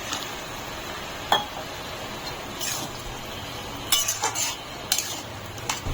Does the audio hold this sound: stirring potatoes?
yes